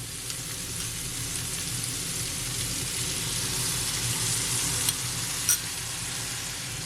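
Jerk chicken frying in a pan as sauce goes in, a close, continuous sizzle and hiss with a couple of brief clinks from stirring.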